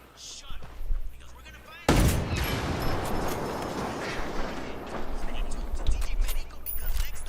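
Gunfire in the video game Ghost Recon Wildlands, a sudden loud blast followed by dense, sustained shooting and explosions, with voices talking underneath.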